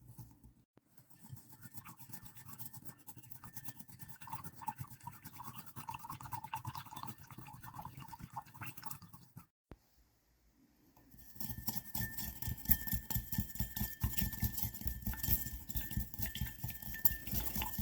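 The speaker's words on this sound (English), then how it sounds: "So this is going to require a little bit of stirring" A spoon stirs sugar into water in a glass, making a steady run of quick clinks and scrapes that pause briefly and then return louder and denser.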